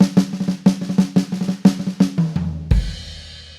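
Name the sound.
single drag rudiment played on drum set, high and floor tom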